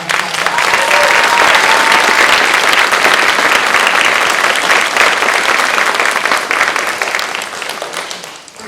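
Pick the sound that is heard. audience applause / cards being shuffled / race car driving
audience applause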